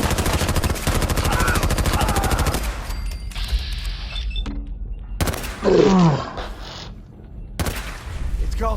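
Rapid automatic gunfire in the video game Fallout 4, a dense, loud burst of rattling shots for the first few seconds, then scattered single shots and impacts separated by quieter gaps, with a brief grunting voice in between.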